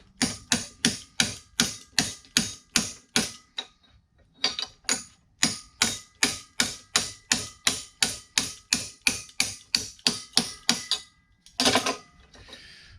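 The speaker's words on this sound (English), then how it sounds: "Let me get a hammer." A hammer strikes metal on a Mustang rotisserie leg build in steady, rapid blows, about two per second, sharp and close, in two long runs with short pauses and a final rougher clatter.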